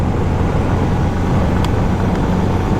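A Honda CB350 or Jawa 42 2.1 motorcycle runs hard from a standstill toward 100 km/h, giving a loud, continuous close-up engine roar mixed with broadband wind rush and two short high ticks.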